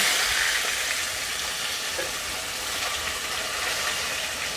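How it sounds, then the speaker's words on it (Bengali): A tomato sizzles and fries in hot oil in a kadai, a steady, loud, close crackle of frying with no voices. "এবার আমি কড়াইতে প্রথমে টমেটোটা দিয়ে দিচ্ছি"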